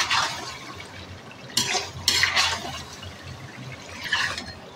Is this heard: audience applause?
no